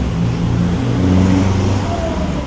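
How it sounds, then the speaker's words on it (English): A silver truck with a heavily taped-on front bumper drives past at the Bang Saen Grand Prix street circuit in Thailand, its loud, steady engine drone holding close and continuous throughout, with no talking. "I did just see that silver truck go by with the bumper taped on."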